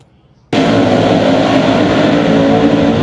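World of Outlaws sprint cars race at Lernerville Speedway, a loud, dense engine roar that bursts in suddenly after a short quiet moment and stays steady and close.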